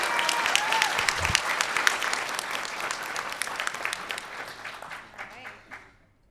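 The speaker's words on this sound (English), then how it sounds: "give her a big round of applause" Audience at an LA Comic Con panel claps in a dense, loud, sustained burst that slowly thins and fades toward the end, with scattered voices mixed in.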